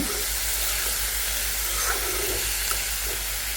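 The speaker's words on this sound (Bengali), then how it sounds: "এখানে আমি করলা ভাজি করতেছি আজকে করলা ভাজিটা হলো পান্তা ভাতের জন্য" Bitter gourd (karela) frying in a pan gives a loud, steady sizzling hiss that continues throughout with faint crackles.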